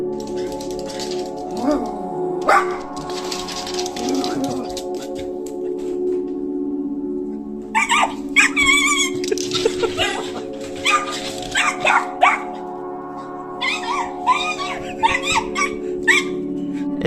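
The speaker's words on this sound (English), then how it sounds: "This dog saw a cat in the yard and tried to scare it away." A dog barks, yips and whimpers at a cat in a yard, loud bursts in clusters near the start and again in the second half, over a steady sustained background tone.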